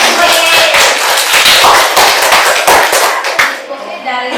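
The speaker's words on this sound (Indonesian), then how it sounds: "Oke, tepuk tangan dong." A classroom group clapping their hands together, a dense, close burst of sharp claps that fades away at the end, with some voices mixed in.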